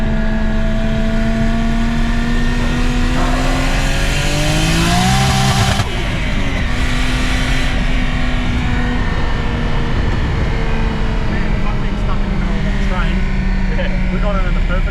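A car heading out onto a race track for a cruise session, its engine droning loud and close with rising and falling revs and steady cabin and road roar throughout.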